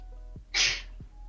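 One sharp, close sneeze bursts out over a low steady hum during a livestream, with a faint voice sound just before and after it.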